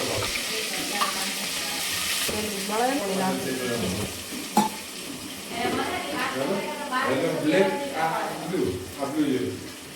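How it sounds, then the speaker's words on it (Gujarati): Paste tipped into hot oil with mustard seeds, frying with a steady sizzle and stirring under a voice talking throughout, with a brief clatter midway. "તો આપણે આ રાઈ નાખી દીધી, તેલ આવી ગયું. હવે અંદર નાખી દેવાની પેસ્ટ."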